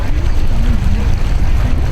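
A boat's outboard motor on an 1103 running at about half throttle on open water, a loud steady low drone mixed with wind buffeting and water rush, close and continuous throughout.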